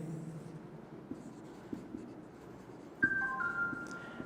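Soft scratching of a pen or marker writing an equation by hand in a quiet chemistry class, faint and close, with a brief tonal chime near the end.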